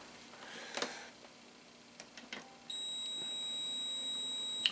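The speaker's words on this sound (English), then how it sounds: "As long as it beeps, it's good." A few soft taps, then a multimeter's continuity-test beep starts, steady and high-pitched, and holds continuously until the end, while testing an LED TV circuit board.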